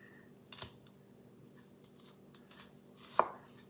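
A knife cutting an onion into slices on a cutting board, heard as a few faint, scattered taps and crisp slicing cuts against a quiet background.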